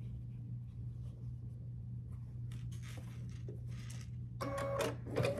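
A sewing machine joins Churn Dash quilt blocks with a 1/4 inch seam. It is a quiet, uneven run of short mechanical bursts over a steady low hum, growing louder toward the end.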